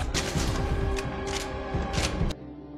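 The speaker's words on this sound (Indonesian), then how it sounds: "Baku tembak pun terjadi." Gunfire crackles in a film shootout as rapid, loud bursts of shots over a dense rumble, then stops abruptly near the end.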